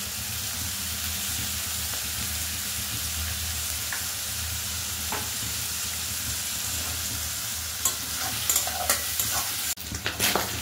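Sliced bitter gourd fries in a little oil with turmeric powder, a constant close sizzle with scraping stirs and a few sharper clatters of the spoon toward the end.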